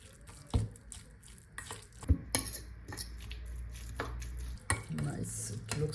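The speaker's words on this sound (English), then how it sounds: "now I'll put just a little bit Himalayan rock salt and a little bit soy sauce. Enough. I'm gonna mix it very well." A spoon or utensil mixing dry-aged bluefin tuna tartare with Himalayan rock salt and soy sauce in a bowl, with soft scraping and a few sharp clinks against the dish, fairly quiet and close.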